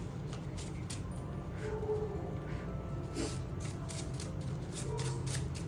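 Tarot cards being shuffled by hand: a soft, continuous rustle with faint flicks, heard close against a steady background hiss.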